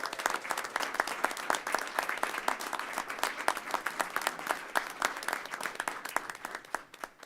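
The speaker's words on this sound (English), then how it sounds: "Let's give them a huge round of applause." Steady audience applause fills a board of education meeting in the Princeton City School District, dense clapping from a crowd sustained for several seconds with no talking over it.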